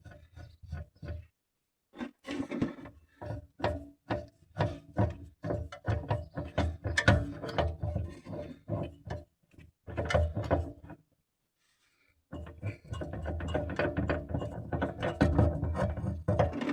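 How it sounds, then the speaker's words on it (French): Scraping, ratcheting turns as the old hydraulic suspension sphere is unscrewed from a Citroën BX 16 TRS, coming in repeated bursts of short rasping strokes separated by pauses. "Et on dévisse la sphère,"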